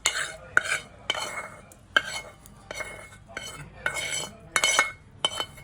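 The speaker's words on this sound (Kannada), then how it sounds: "ಈಗ ಒಗ್ಗರಣೆ ಹಾಕ್ಕೊಂತಿದ್ದೀವಿ." Hasi saaru tempering (oggarane) being prepared, with a metal spoon stirring and clinking against a pan in a series of sharp, irregular knocks and scrapes, close by with no talk.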